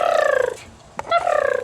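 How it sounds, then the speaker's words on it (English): A young chicken gives soft, cricket-like purring trills, two short warbling bursts close by with a small click between them. "he or she loves to make these little cricket noises, like those little purr"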